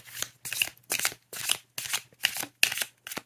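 A deck of tarot cards being shuffled by hand, with six or seven crisp riffling bursts in an even rhythm, close up and clear, separated by short gaps.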